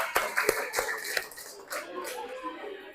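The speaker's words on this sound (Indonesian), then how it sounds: "Tepuk tangan untuk kelompok 5." Fourth-grade pupils in a classroom clap for group 5, a brief scattering of sharp, uneven hand claps up close that quickly thins out, with faint voices underneath.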